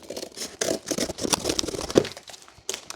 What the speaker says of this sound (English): Just going to cut along here.